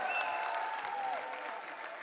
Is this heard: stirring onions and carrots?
no